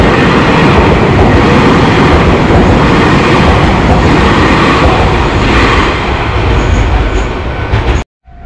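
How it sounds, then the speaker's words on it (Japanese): Loud rumbling roar of a Keio Inokashira Line train passing close by at a railway crossing, steady and heavy, with faint rhythmic clatter, cutting off abruptly near the end. "今もね、左右から電車が来ました。"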